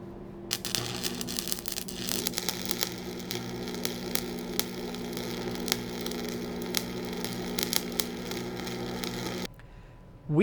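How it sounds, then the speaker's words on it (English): A welder joining steel tube and plate while making a blacksmith's hot cut tool: a steady, crackling electrical buzz with a low hum underneath, running for about nine seconds and then cutting out abruptly. "let's go ahead and get the welder turned on and we'll get these welded up"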